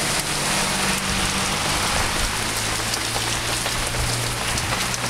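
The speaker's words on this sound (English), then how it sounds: "now it's raining so hard that there's a current in my front yard" Heavy rain pours down during a flood, hard enough to send a current across a front yard; a steady, dense, loud hiss of rain on surfaces fills the whole stretch without a break, with no voices.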